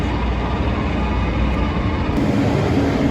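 A loud, steady rumbling roar of an elevated 7 or N subway train passing close overhead in Long Island City, Queens, New York, a continuous rail noise that fills the whole clip without a break.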